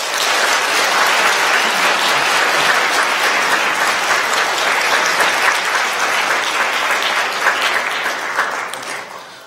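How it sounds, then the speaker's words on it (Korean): A church congregation at a Sunday service gives sustained, loud, dense applause to welcome new members, filling the hall evenly before tapering off at the end. "여러분들 뜨거운 환영의 박수 부탁드리겠습니다"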